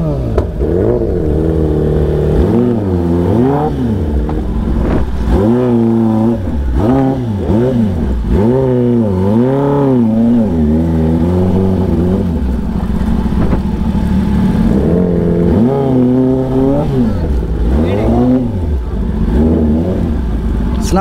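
A newly delivered BMW S1000RR sport motorcycle revs repeatedly, its engine pitch climbing and falling in rhythmic sweeps. The sound is loud, close and continuous for the whole stretch.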